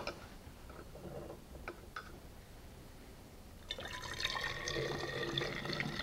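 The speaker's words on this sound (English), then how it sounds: "Transfer the vinegar into a bottle." Homemade blueberry vinegar is poured into a bottle, first as faint trickles and drips, then as a steadier close gurgling stream as the bottle fills, with no talking.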